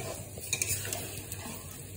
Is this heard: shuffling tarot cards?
no